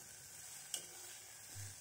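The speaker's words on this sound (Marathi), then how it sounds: "याप्रमाणे आपला मिरची आणि लसूण भाजल्या गेला पाहिजे." Chilies and garlic dry-roasting in a pan for a spicy thecha, a faint, steady sizzle with one soft click partway through, no voices.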